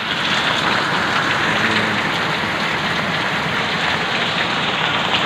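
Heavy rain pours down in a dense, unbroken roar, loud and close, drumming on surfaces around the listener with no voices present.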